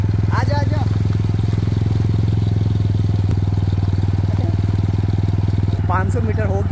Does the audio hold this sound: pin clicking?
no